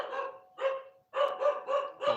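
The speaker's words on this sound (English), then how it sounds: "Dog's going absolutely mental." A dog barks in bursts at someone at the door of a house, several loud, close barks in quick succession with short pauses between them.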